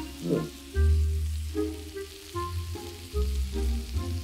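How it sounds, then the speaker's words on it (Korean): Chicken pieces stir-fry in hot oil, a close crackling sizzle that rises in several bursts as the food is tossed, with no speech. "그 다음에 기름을 둘러서 볶는다"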